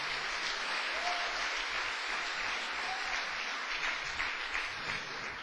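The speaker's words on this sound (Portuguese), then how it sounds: "Uma salva de palmas pro Senhor." A congregation at a church service applauds for the Lord, a dense, continuous wash of many hands clapping that holds steady and loud throughout, with a faint voice briefly surfacing.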